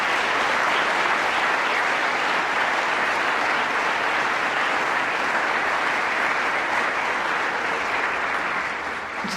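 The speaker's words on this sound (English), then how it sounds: "Can we give them a round of applause?" An audience applauds at a teen awards ceremony in Bermuda, a dense, steady wash of clapping that stays loud throughout and fades slightly at the very end.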